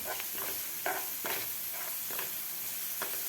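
Chili and garlic sautéing with onion in a pan, a steady sizzle and hiss with a spatula scraping and stirring in regular strokes, close and continuous, no voices.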